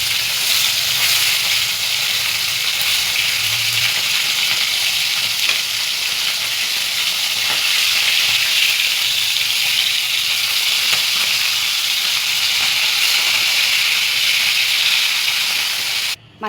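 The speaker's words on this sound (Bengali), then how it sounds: "এবার মাছগুলো ভাজার জন্য দিয়ে দেবো।" Fish frying in hot mustard oil in a wok gives a loud, steady sizzle and hiss that fills the whole stretch, close and unbroken, with no talking.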